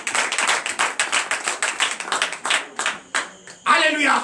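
Rhythmic group clapping in acclamation during a French-language church deliverance and prophecy night service, steady regular claps filling the space, ending with a brief burst of voices and singing.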